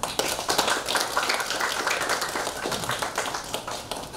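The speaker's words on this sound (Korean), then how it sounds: "이 두 분께 이 임원들께 큰 박수로 격려 한번 해주십시다." Audience clapping at a 2019 Hanyang literary society poetry-painting exhibition in East Seoul, a steady dense patter of many hands at moderate volume throughout, with no voices over it.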